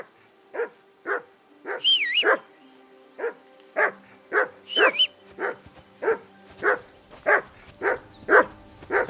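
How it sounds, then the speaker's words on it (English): A dog named Mutt barks in a video game, about a dozen sharp, evenly spaced barks close by with a couple of higher whimpering yelps, set over a low steady ambient hum. "Henry! Call that dog to heel."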